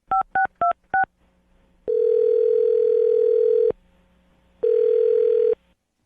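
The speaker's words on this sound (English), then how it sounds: "I'm going to dial his phone number right now." Four quick dialing beeps, then two long, loud electronic ringback tones separated by a pause, close and clear.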